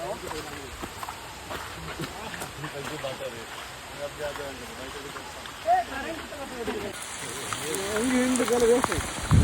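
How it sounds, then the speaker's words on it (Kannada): Heavy rain falls in a continuous patter and hiss beneath people talking, growing a little louder near the end. "ಜೋರು ಮಳೆ ಬಂತ ಹೋಗಿ ಕಾಣಿ ಮಳೆ ಬರ್ತಾನೆ ಇತ್ತು"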